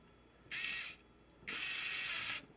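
A Lego Technic Jaguar F-Type model's gearbox being shifted, giving two bursts of rapid, close plastic ratcheting clicks: a short one first, then a longer one, separated by a brief pause.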